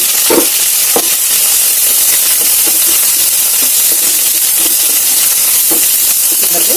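Curry leaves, green chillies and dried red chillies sizzle loudly in hot oil for a coconut fry. A strong, continuous frying hiss is broken by a few sharp pops and spatters, close and with no voices.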